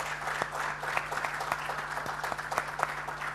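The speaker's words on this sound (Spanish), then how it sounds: "Me gustaría que le diéramos un sincero aplauso a Cristian y a Freddy" A small audience at a management-control coffee-break talk claps for two professors; brief, moderately loud applause with individual claps distinguishable over a steady low hum.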